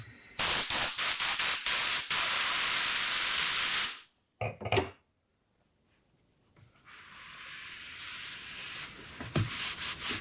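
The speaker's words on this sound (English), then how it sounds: "we're just going to take a helmet and spray it with compressed air and then wipe it dry" Compressed air blasting in loud hissing bursts at a motorcycle helmet used for racing in Baja, first a few short spurts and then a long steady jet, followed by quieter broken hissing after a pause.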